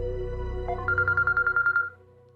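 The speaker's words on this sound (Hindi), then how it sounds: "फोन आ रहा है" A phone rings with an incoming call, playing a quick run of bright electronic beeps over a low background hum. The tone is short and clear, and it stops abruptly.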